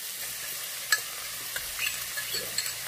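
Butterbur stems lightly stir-fried in a pan, a soft steady hiss with a few faint spatula clicks and crackles scattered through, close but fairly quiet.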